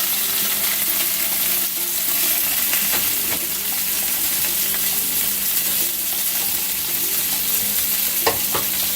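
Meat frying in oil in a paella pan for a chicken and seafood paella, a steady close sizzle with light stirring and occasional scrapes and crackles throughout, no voices.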